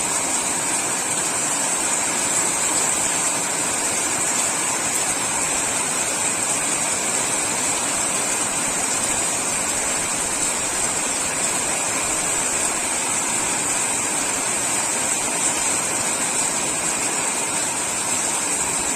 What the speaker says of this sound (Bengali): এখন এই মুহূর্তে প্রচন্ড জোরে বৃষ্টি নেমেছে, একদম ঝমঝমিয়ে বৃষ্টি পড়ছে